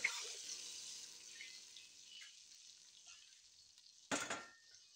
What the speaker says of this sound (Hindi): अब इसमें मेरे पास हाफ केजी चावल हैं, तो उस हिसाब से मैं पानी डाल रही हूँ